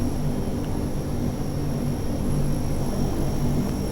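A Convair 580 aircraft engine runs close by with a loud, steady roar and a thin high whine held throughout, with no voices.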